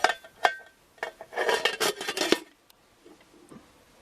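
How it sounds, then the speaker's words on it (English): Metal British Army mess tin lid set on top of another tin as a cover, giving a series of close clinks, scrapes and rattles over a couple of seconds, then quieter faint handling. "Simply you put the other mess tin on top as a cover"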